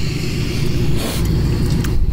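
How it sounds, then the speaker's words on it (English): A truck rolls past on the road nearby with a steady low rumble and a brief swell of tire and engine noise midway, then fades slightly. "I'm gonna let the truck pass for a minute."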